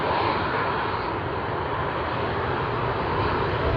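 A Cathay Pacific Boeing 777-300 at Sydney Airport gives off a steady, broad jet engine roar, continuous and moderately loud, heard alone at some distance.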